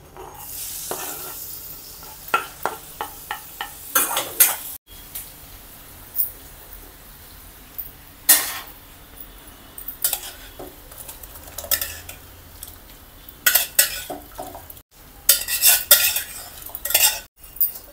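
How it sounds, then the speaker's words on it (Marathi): Uncooked rice tipped into boiling water in a home kitchen pot, giving scattered soft clatters, stirring scrapes and light bubbling, close by with no talk. "पाणी उकळलं तर मग त्याच्यात मी तांदूळ टाकते"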